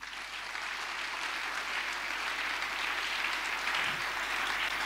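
Applause from a congregation at a church service, a steady dense wash of clapping that carries on for about five seconds without a break.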